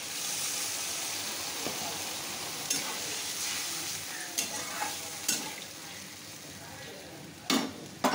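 Potatoes frying in a pan with a little water just added, a loud, dense steady hiss of steam and sizzle with occasional spoon clanks against the pot toward the end.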